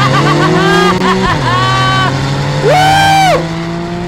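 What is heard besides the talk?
Porsche 911 Carrera driving hard with ESP off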